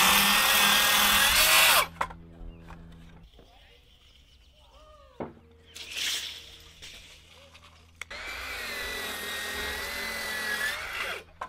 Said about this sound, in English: I'm going to cut everything on the ground with a circular saw because 16 foot boards are really hard to wield around